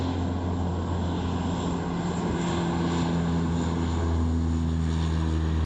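Steady, loud drone of the Hawaii Mars water bomber's piston propeller engines, a continuous deep hum with strong low tones held evenly throughout over Shawnigan Lake, no talk.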